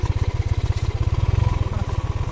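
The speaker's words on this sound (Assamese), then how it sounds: "বাইকখন অলপ গধুৰ আছে, সেইকাৰণে টানিব লাগিব।" A heavy motorbike engine runs steadily with a rapid, even pulsing throb up close while the bike is turned around on a road, with faint clatter and no talk.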